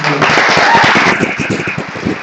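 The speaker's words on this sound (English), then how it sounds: "will you stand up so we can give you an applause?" Applause from an audience for faculty and staff at a graduation reception, a dense, loud, steady patter of many hands clapping throughout with some voices mixed in.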